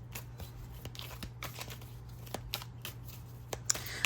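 Tarot cards shuffled by hand in quick, papery riffling bursts, fairly quiet and close, over a steady low electrical hum.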